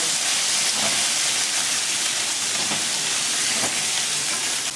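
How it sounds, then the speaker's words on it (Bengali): Potatoes and ridge gourd frying in mustard oil in a pan, giving a steady dense sizzling hiss close by without talk. "ওই তেলেতেই আমি আলু আর ঝিঙেগুলো দিয়ে ভেজে নেব"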